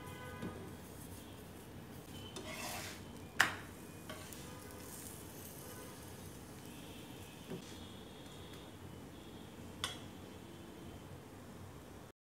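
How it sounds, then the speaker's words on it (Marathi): Masala paratha roasts on a hot tava griddle, giving a faint, soft sizzle with a few light ticks and clinks from turning it, quiet and steady throughout. "तव्यावर टाकून शेकून घेऊया."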